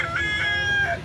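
Gamefowl rooster calls at a Cebu breeding farm: short, close, high-pitched crowing and clucking notes that repeat in quick succession over low background noise.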